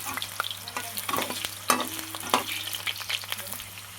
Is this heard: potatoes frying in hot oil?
yes